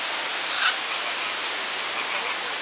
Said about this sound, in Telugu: ఓ, వాటర్ ఫాల్ లాగా ఉంది